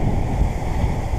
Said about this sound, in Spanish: surfeando olas a 7 nudos